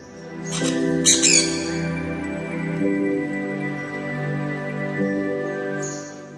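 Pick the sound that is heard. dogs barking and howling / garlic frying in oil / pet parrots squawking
pet parrots squawking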